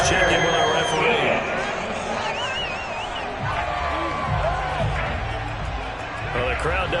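Football stadium crowd at a UFL Bulls vs. Falcons game reacting to a penalty flag, a steady loud roar of boos and murmurs filling the space under continuous commentator talk.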